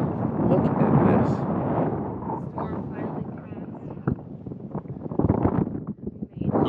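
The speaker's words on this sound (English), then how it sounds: "I'm sorry if the wind is bad, but we are here in the middle of the Great Sand Dunes" Strong wind gusting across the Great Sand Dunes in Colorado, roaring and buffeting the microphone loudly throughout, with a person talking over it in places.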